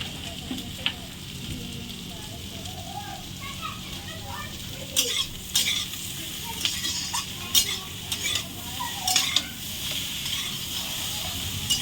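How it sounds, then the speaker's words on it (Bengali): Taro roots (kochu mukhi) fry in a pan with a soft continuous sizzle, punctuated by sharp clinks and scrapes of a utensil against the pan, close up and without talk. "কচুরমুখিটা আমি খুব সুন্দর করে ভেজে নিয়েছি"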